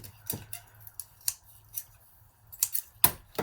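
Scissors snip through a piece of craft material for a handmade gift, giving several sharp, close cutting clicks in an irregular rhythm with quiet pauses between them.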